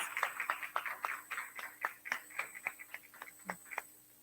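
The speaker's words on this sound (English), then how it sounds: "Can we give him a round of applause" A small audience at a World No Tobacco Day event claps for a speaker: sparse, distinct hand claps in an irregular rhythm, faint and somewhat distant in a quiet room with a steady background hum.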